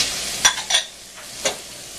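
Ground pork, beef and veal dropped into a hot pan with olive oil, a brief close sizzle with a couple of sharp hissing bursts that fade quickly.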